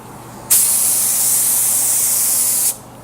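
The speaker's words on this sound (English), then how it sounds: "We are spraying a Hydrographics activator." A single sustained aerosol spray of hydrographics activator hisses steadily for about two seconds, close and loud, then cuts off abruptly into quiet.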